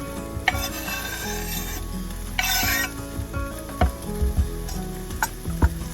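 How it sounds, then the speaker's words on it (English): Breakfast sizzles in a pan in a tiny kitchen, a steady frying hiss under repeated scraping, stirring and sharp utensil knocks, with louder bursts of sizzle along the way. "I love cooking breakfast in my tiny kitchen."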